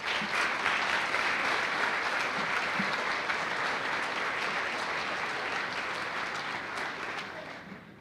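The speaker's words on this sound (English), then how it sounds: "Let's give these gentlemen a round of applause." An audience at a high school senior honors night applauds award recipients with steady, dense clapping that fills the hall, holding strong for most of its length before tapering off near the end.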